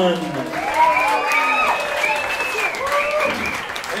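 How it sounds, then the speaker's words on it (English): Applause and cheering from a comedy and rap open-mic crowd as a performer is welcomed, a steady wash of clapping throughout with whistles and vocal cheers rising over it. "Big round of applause for Nick Sun!"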